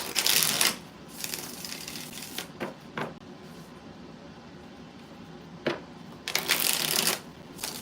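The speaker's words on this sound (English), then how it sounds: "Three more shuffles." Several bursts of riffling tarot cards, loud and close, separated by quieter handling and soft clicks.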